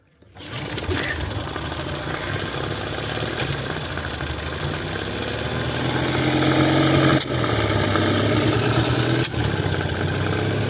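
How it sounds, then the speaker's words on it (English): An outboard motor runs unevenly, a loud, close, continuous engine drone that starts abruptly, rises in intensity midway and shows a couple of sharp hitches. "there's something wrong with the motor that's doing these things"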